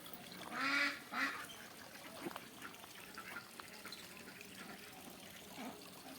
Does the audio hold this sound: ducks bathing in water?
yes